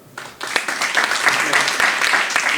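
A live show audience claps in answer to a performer's call, a ragged burst of applause building quickly and holding at moderate loudness, with some voices mixed in.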